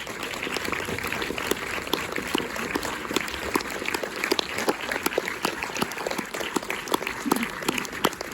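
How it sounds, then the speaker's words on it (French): Cinema audience applauding after a screening and meeting, steady dense clapping throughout, fairly close and continuous with no talk over it. "vous pouvez l'applaudir"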